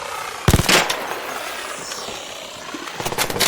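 A FAMAS-like rifle fires single shots in the shooter game ARC Raiders, a sharp close burst of reports early on and a few more toward the end over steady wind-like ambience.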